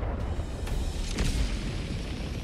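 Grenade launcher explosion in the video game Helldivers 2, a dense rumbling boom with a low roar and crackling blast noise that stays loud throughout, with no talking.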